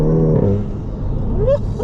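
A VW Golf GTI fitted with a Revo open air intake revs loudly and close by, with a deep engine rumble and rising harmonic sweeps, and a voice briefly audible over it.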